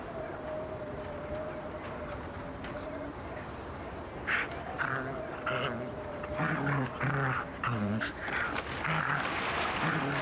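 A dog in a TV advert whimpers and pants over a constant background bed, with short yelps and breathy bursts growing busier in the second half, and talk faintly present.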